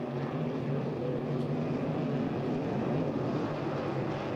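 Hydro350 hydroplane racing boats accelerating on a race course, a steady distant engine drone without speech.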